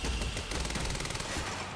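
An advanced SMG fires in Quantum Break, a dense, rapid burst of gunshots rattling out close and loud without pause.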